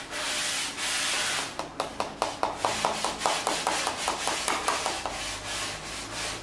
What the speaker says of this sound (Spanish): ¿Molesto con la lija?